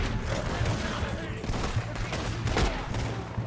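Rapid gunfire in Red Dead Redemption 2, a dense run of shots layered over a low rumble and continuous game noise, loud and close throughout.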